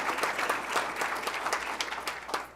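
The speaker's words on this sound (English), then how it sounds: "Let's give them a round of applause." Brief applause rings out at a school board meeting, a modest group clapping in an uneven patter that carries through a room for a couple of seconds.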